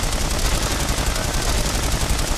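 Dense, continuous rapid gunfire from The Saboteur, a World War II action game set in occupied Paris, close and loud, with overlapping bursts and no pauses through the stretch.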